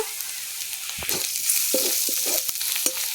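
Green chilli paste, turmeric and chilli powder hit onion and garlic already fried reddish-brown in a pan, crackling in a steady close sizzle with scraping stirs throughout.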